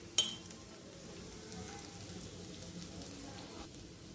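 Lentils and freshly grated coconut fry in a hot pan with a steady, soft sizzle and crackle, fairly quiet and unbroken, with no voices over it.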